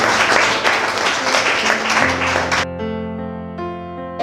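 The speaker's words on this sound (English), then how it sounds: "Clap hands for yourself." People clap hands in dense applause at a primary school visit event, lasting about two and a half seconds before it cuts to a sustained tonal sound.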